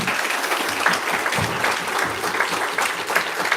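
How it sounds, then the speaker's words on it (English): A loud, sustained round of applause from an event audience, many hands clapping densely and close, steady from start to finish. "Quick round of applause for everybody."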